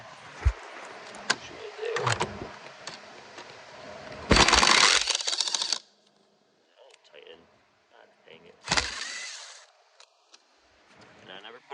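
A dashboard screw is worked out of an R56 Mini Cooper S with a whirring power driver in two loud bursts, amid clicks and rattles of the interior and some talking.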